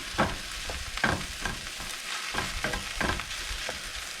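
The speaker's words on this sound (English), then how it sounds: "Take your spatula, start breaking it down." Cooked rice stir-frying in a hot skillet while a spatula breaks up the clumps, continuous close sizzle punctuated by repeated scraping and tapping strokes, with no voices.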